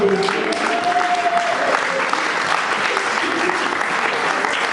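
A church congregation applauds in acclamation during a sermon, a broad steady wash of many hands clapping, with a voice briefly calling out over it near the start.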